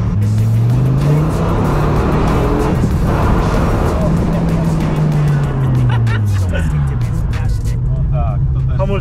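Car accelerating hard with tire squeal during a ride, a loud engine roar rising and falling in pitch with screeching tires as people talk over it.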